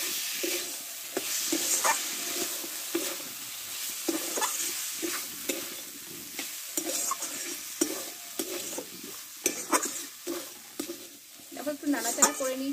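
Boiled chana dal stirred and fried with spices in a pan, a steady close sizzle broken by repeated scraping strokes of a spoon and pan knocks.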